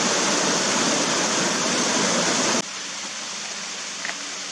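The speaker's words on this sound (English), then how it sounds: "with a beautiful mossy creek behind us" A mossy creek flows steadily as a dense, broadband rush of water that holds for about two and a half seconds, then drops abruptly to a quieter, fainter wash of water for the rest of the clip.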